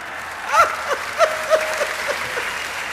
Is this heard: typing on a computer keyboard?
no